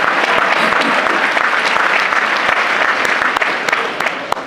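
A graduation ceremony audience applauds steadily with dense, sustained clapping that fills the hall, with a few sharper individual claps standing out near the end.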